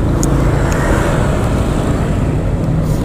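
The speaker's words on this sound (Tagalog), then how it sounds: "Traffic na rin dito sa lugar na to" Dense road traffic noise from cars and motorbikes, a loud continuous broadband roar close by with a few brief higher bursts, no voices.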